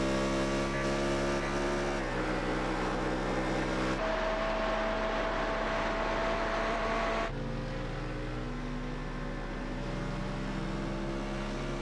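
A fast car's engine in a video game, a loud sustained electronic drone that steps up and down in pitch as it shifts, running continuously with no talk.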